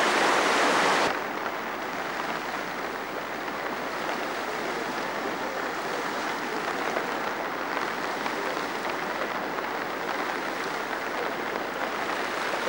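Floodwater rushes continuously through a roadside ditch in a steady, broadband gush, like a fast-flowing stream heard up close, with no voices.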